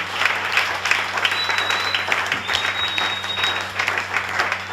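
Church congregation applauding and cheering in praise during a French-language worship service, steady dense clapping filling the hall for several seconds with a murmur of voices underneath.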